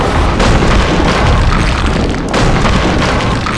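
A loud, sustained explosion from the Max Payne video game, a dense rumbling boom that fills the whole stretch with a brief dip midway.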